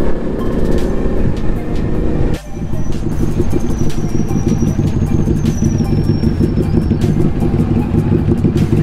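Several motorcycles, among them an Indian Scout, a Yamaha R1M and a Harley-Davidson, pull away on a Sunday group ride with a continuous loud engine drone, and wind rush and a faint high tone sit over it.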